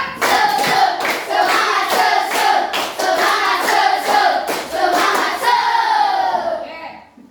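Rhythmic group clapping from an elementary school class doing a cheer clap, loud steady patterned hand claps in repeated bursts with some voices mixed in, fading at the end.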